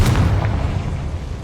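A Confringo fire spell blasts off in Hogwarts Legacy, a single low boom with a short burst at the start that rumbles and fades away through the rest.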